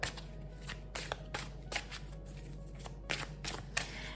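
Tarot cards being shuffled by hand, a series of crisp riffling bursts and soft slaps repeating irregularly, close and quiet against a low steady hum, no talking.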